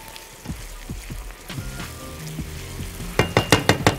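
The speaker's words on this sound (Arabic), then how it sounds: "بصوا على طول اهو هتلاقيه ابتدى يغلي وابتدى يتقل" A soy sauce mixture for an eggplant dish boils and sizzles in a pan with steady bubbling and stirring scrapes, ending in a run of sharp, close tapping clicks.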